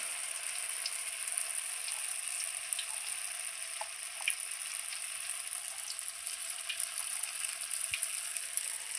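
Pazham pori, banana fritters, fry in hot oil with a steady, bright sizzle and scattered small pops, close and continuous with no talking.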